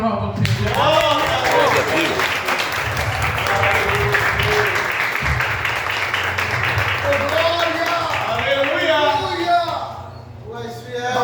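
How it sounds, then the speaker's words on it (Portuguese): Church congregation applauding during a worship service, steady clapping and crowd noise running under an ongoing voice with music, fading slightly near the end. "E as palmas logo, Senhor."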